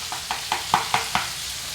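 Chopped onion and hamburger meat frying together in a pan: a steady sizzle with six rhythmic scraping stirs of a utensil, close and clear, no talking.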